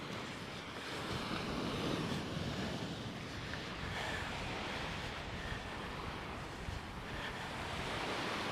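Ocean surf breaking on the beach at Praia de Lourido in Galicia, a broad steady wash of waves with wind rushing over the microphone, continuous and fairly loud with no voices.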